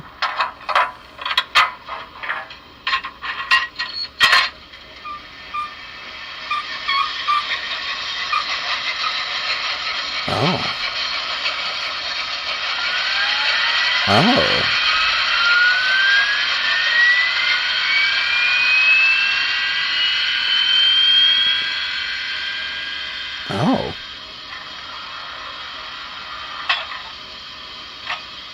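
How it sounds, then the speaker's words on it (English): Broadway Limited model locomotive sound system running its startup sequence and then idling, a sustained mechanical hum with clicks and pops at the start and a few short bursts of voice over it. "The idling sounds, the startup sequence is really nice"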